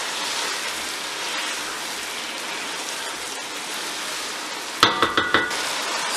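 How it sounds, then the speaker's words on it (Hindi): Washed rice being stirred in a pot of water for pulao, a continuous watery swishing, then a short burst of four or five spoon clinks against the metal pot near the end. "अच्छे से इसे मिक्स करते हैं एक दफा।"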